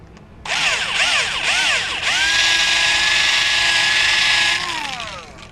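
A power drill machines motor pods for a speeder frame clamped in a vise, its loud, close motor whine rising and holding steady for several seconds before winding down at the end.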